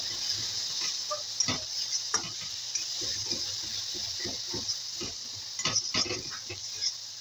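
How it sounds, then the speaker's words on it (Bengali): Spice paste for a prawn dal dish is stirred and fried with a little water in a pan, a soft continuous sizzle under repeated scraping and tapping of a spoon, fairly quiet and close. "মশলাটাকে ভালো করে আমি কষিয়ে নেব।"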